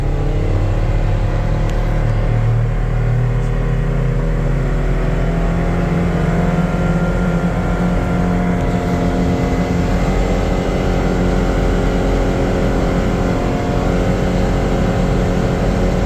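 Inside the cab of a 2024 Polaris Xpedition XP5 Northstar UTV at about 35 mph and 5,200 RPM, a constant engine hum and road roar hold steady at moderate level throughout.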